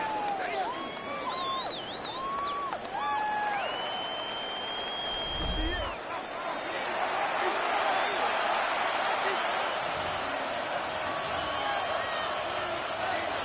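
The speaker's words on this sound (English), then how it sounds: "The crowd making their presence felt" A stadium crowd roars steadily in an American football video game, a broad continuous wash of noise running the whole stretch, with a commentator's voice and bright game sound effects over it early on.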